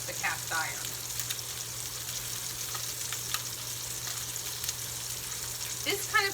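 Tomahawk pork chops searing in a hot cast iron pan, a steady close crackling sizzle with occasional sharper pops and spits over a low hum.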